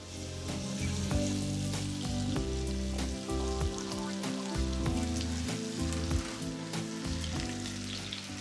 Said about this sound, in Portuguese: Vou derreter um pouco de manteiga e vou juntar aqui maçã golden.